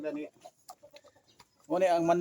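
A chicken clucks in short, close bursts with quiet pecking-like sounds between, and a voice or louder cluck at the start and end.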